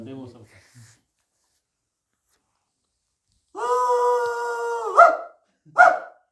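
A man imitates a dog with his voice, giving a sustained howl-like call followed by two short bark sounds, loud and close, after brief talk at the start.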